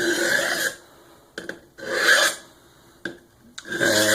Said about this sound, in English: So we're going to go ahead and straighten out and try to remove the burr.